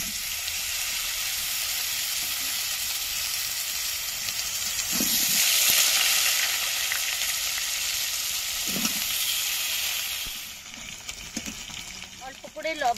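Potatoes hiss and sizzle steadily in hot oil for a Tangra fish curry, a loud continuous frying crackle with a brief surge midway and a few stirring knocks, plus a short burst of voice near the end.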